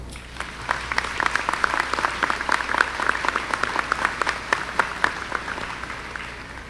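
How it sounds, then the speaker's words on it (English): Applause at a high school commencement rises from a large seated audience honoring graduates' families, a steady wash of many clapping hands with sharp individual claps standing out, heard at moderate distance without talk. "please join me in giving our families and the people who have supported us along the way a round of applause"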